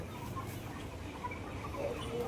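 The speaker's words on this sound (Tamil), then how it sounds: "இது நாட்டுக்கோழி" Native country chicken clucking at a poultry and meat shop, low and faint amid steady background noise, with no speech heard over it.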